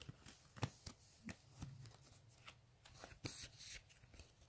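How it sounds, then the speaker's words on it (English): Tarot cards being shuffled by hand, a run of soft riffling bursts and sliding rubs at an uneven rhythm, quiet and close with no talking. "I'm going to shuffle the cards"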